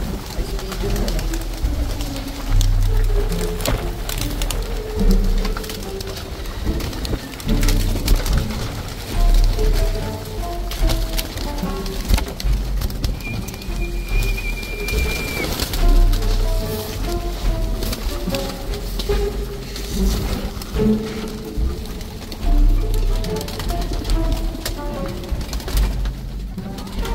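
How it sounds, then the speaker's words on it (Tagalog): Rare off-colour ice pigeons coo softly on a farm, their low repeated calls layered under a constant rain-like patter and background noise. "Ice pigeon."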